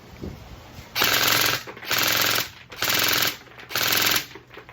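A Lancer Tactical Gen 3 Hellion airsoft rifle, rated at 38 rounds per second, fires four loud, close full-auto bursts of about a second each, separated by short pauses.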